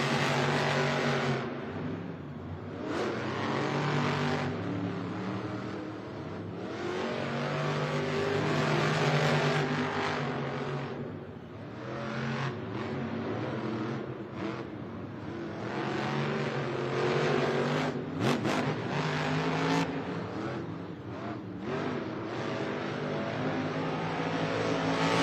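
Monster trucks racing side by side in the Monster Jam stadium in St. Louis, engines roaring and revving continuously with surging accelerations, loud and distant-sounding through the arena, crowd noise underneath.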